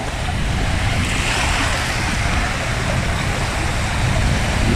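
Rough sea waves surge and churn in a loud, steady roar with a wind-buffeted microphone. There are no clear breaks and no voices.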